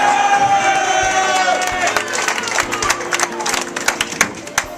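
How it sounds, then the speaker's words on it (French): Crowd at a school farewell evening, cheering voices swelling into scattered, increasingly sharp applause with individual claps standing out toward the end, amid lively hall noise. "Ne ménagez pas vos applaudissements"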